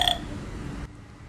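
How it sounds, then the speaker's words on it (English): A burp sound effect from a Peppa Pig sound book, a single short, low, rumbling belch that sounds electronic and cuts off abruptly, with no voices. "Burps Peppa."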